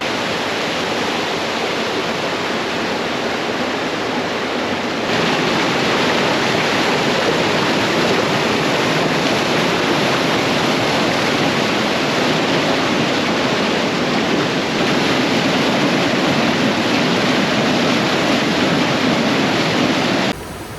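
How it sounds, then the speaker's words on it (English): Heavy winter runoff rushes off the side of a trail in the Arkansas Grand Canyon over saturated ground, a loud, steady, close roar of flowing water that continues unbroken with no voices. "That is a lot of water flowing through there."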